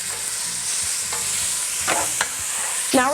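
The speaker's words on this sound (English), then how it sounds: "Now we're just going to saute our meat until it's brown." Chuck stew meat browning in oil mixed with cumin and seasonings for carne guisada, a constant close sizzle with scraping stirs from a spoon against the pan.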